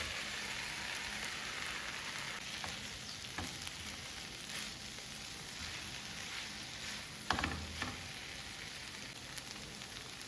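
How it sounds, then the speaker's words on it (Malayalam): Egg stirred into a sizzling pan for egg chilli dry fry, a steady bright frying hiss throughout with a few soft scrapes and clicks of stirring, close and moderately quiet, no talking. "ഇനി ഈ എഗ്ഗ് ഇതിലേക്ക് മിക്സ് ചെയ്യാം നല്ലപോലെ"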